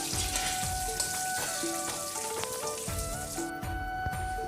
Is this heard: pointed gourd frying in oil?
yes